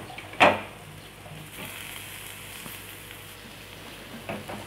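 Chopped tomatoes tipped into hot tempering oil with chillies for a Tamil bitter gourd kuzhambu give one sharp, loud sizzling burst, which settles into a faint steady frying hiss.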